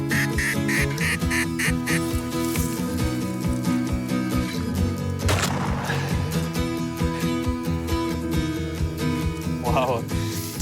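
Mallard ducks, including a drake, quack repeatedly in a late-season hunting setting, with loud, overlapping calls near and at middle distance while someone talks over them.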